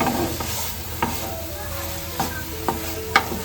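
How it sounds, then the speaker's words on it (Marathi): Masala paste being sautéed in oil while fish curry is prepared, giving a steady close sizzle broken by a few sharp scraping clicks of a spoon stirring it around the pan. No voices. "मेन हा वाटप आहे ना तो चांगला आपल्याला तेलामध्ये परतून घ्यायचा आहे"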